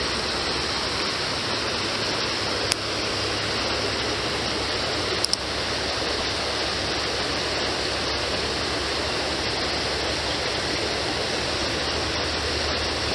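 Steady, broad rushing of creek water flowing nearby, loud and unbroken throughout with only faint clicks on top and no talking.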